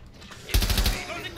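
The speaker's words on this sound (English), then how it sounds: "I think they're shooting the turn room" A short burst of rapid automatic gunfire erupts in Rainbow Six Siege, a quick string of close, loud shots after a quieter lead-in, trailing off into lingering room echo.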